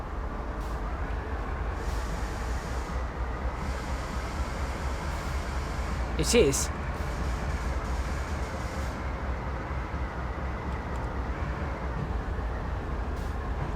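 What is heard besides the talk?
CSX heavy haul freight train moving, from Train Sim World video game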